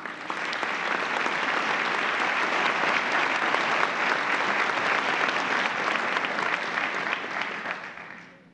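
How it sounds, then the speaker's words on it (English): A large audience at a medical school honors and awards convocation claps steadily in dense, sustained applause for several seconds, then fades out at the end. "please give her a round of applause"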